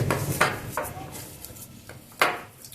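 Dal sandwich filling with black salt and coriander being mixed in a bowl, heard as a few distinct clinks and scrapes of a spoon against the dish with soft rubbing between them, close and fairly quiet.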